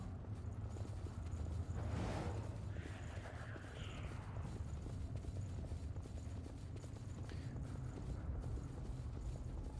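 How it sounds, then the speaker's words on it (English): Footsteps in the video game Code Vein, a steady run of hard clip-clop steps over a constant background drone with no talking. "hope you like the sound of these footsteps"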